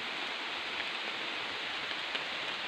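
Steady local rain falls outdoors, a dense, even hiss that holds without pause, close and moderately loud throughout, with no voices.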